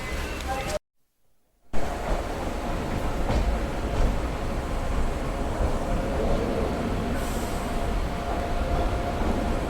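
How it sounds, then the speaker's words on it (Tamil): The Grand Trunk Express rumbles steadily toward the New Delhi station platform with broad rolling noise, a brief dropout early on, then continuous clatter and hum as it moves along, fairly close. "நம்ம ஜிடி எக்ஸ்பிரஸ் வந்து நியூ டெல்லி ரயில்வே ஸ்டேஷன் பிளாட்ஃபாரத்தை பார்த்து வந்துட்டுருக்கு"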